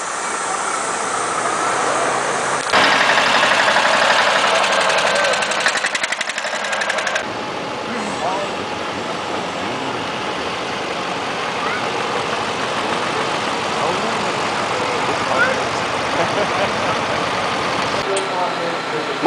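Tractors and old vehicles roll past in a rainy street parade at an opening-day festival, a steady mix of engine rumble and crowd noise that stays fairly loud throughout, with a louder passing stretch near the start.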